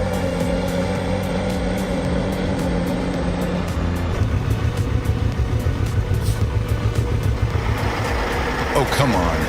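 A huge wood logging truck works a muddy, slippery dirt road alongside a dozer. Its heavy diesel engine gives a loud, steady low rumble for the whole stretch, with a rougher pulsing throb toward the end.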